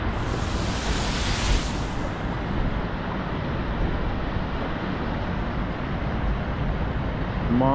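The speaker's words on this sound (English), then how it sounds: "This waterfall is super cool." A waterfall roars steadily at close range, a constant broadband wash of rushing water with no talking heard.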